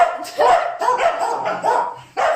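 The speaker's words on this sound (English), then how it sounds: "Get ready for barking." Several Mudi dogs bark and yip in short, overlapping bursts nearby, with whiny tones mixed in, almost continuous for a couple of seconds.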